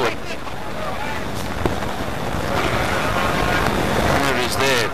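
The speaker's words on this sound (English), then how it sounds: "That's a good breeze, isn't it?" Wind of about 15 to 20 knots gusts across a cricket ground at Dambulla, buffeting the microphone with a rushing, rumbling roar beneath steady commentary.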